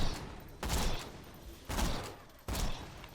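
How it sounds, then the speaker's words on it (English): Sniper rifle fire in Borderlands 2, three bursts of gunfire spaced about a second apart, each a sharp crack with a short decaying tail, moderately quiet with no talk. "you always shoot 2 shots."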